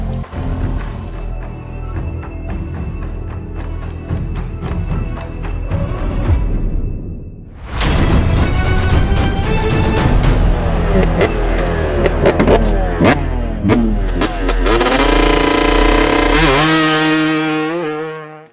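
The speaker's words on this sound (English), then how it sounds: "This is the KTM 390 Adventure." A KTM 390 Adventure motorcycle runs loud and close, its single-cylinder engine revving through rising and falling gear changes, pausing briefly, then climbing again in a run of sharp accelerations.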